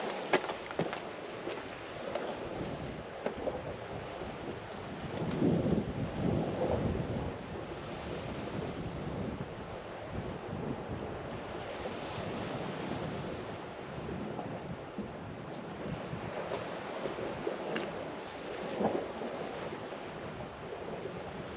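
Sea swell rolls and washes onto the Sully Island shore of the Bristol Channel in a continuous surging rush, with gusts of wind buffeting the microphone.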